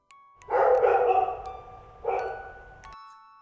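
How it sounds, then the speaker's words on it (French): A dog barking sound effect plays in a French read-aloud children's story, standing in for grandmother's dog. Two loud, drawn-out bursts come close together, the first longer, with no voice over them. "C'est Chocolat, le chien de grand-mère"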